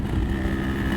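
A 27-year-old Yamaha RX100 two-stroke motorcycle, said to have a seized engine, idles steadily up close with a continuous low throbbing rumble, no talking over it.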